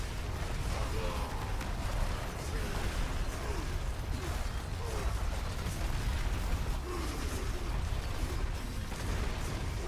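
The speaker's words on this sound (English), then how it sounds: "Explosion." Explosive skill effects from a boulder druid in Diablo 4 play out as a dense, continuous stretch of rumbling booms and crunching bursts, with layered pops and debris clatter repeating throughout at a steady loud level.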